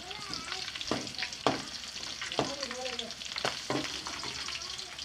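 Green chillies fry in hot oil in a pan with a steady sizzle and crackle, punctuated by several clattering strokes of a spoon stirring and scraping the pan, no talk.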